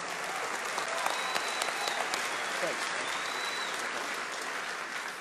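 A large festival crowd applauds the Star Makers at a country music festival in Australia, a thick, even wash of clapping held at steady loudness throughout, with some crowd noise mixed in.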